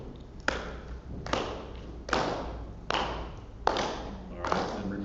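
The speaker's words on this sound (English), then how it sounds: "So start clapping." Hand claps fall at a steady pace, about six sharp slaps less than a second apart, each ringing briefly in a reverberant room, while a voice talks over them.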